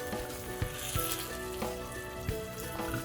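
A paste of poppy seed, melon seed and cashew is stirred with curd in a hot pan, a close, dense sizzle broken by a few soft stirring clinks and scrapes.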